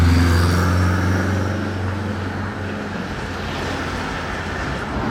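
A Corvette pulls out along a Monaco street, its low engine drone loud and close at first, then easing off and thinning as the car moves away.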